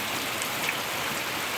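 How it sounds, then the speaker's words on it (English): Pouring rain falls outdoors on a rainy day, a dense, steady hiss of drops with no gaps, loud and continuous with no voices. "And here's the fucking pouring rain."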